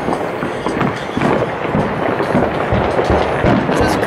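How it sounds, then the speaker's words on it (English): Dense, continuous rumbling booms and crackles of New Year's midnight fireworks going off behind a house, loud and steady without pause and with no voices. "There are fireworks going off behind my sister's house."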